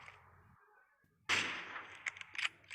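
Gunshots in PUBG Mobile on the Erangel map, a sharp loud crack after a quiet moment followed by a few quicker shots, heard alone without talking.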